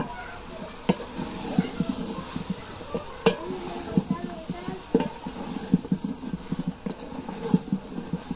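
Dhone, cumin and chili pastes frying in a pan give a low sizzle under repeated irregular scraping and clicking stirring strokes, close by, with a voice talking over it.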